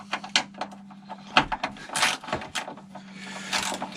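A bolt is worked loose from the plastic mount of a Pontiac Grand Prix headlight assembly, with a steady low hum under a series of close clicks, scrapes and taps from the tool.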